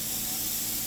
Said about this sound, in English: it takes a lot of spraying